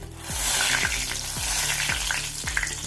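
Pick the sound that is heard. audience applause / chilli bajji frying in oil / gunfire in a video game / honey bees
chilli bajji frying in oil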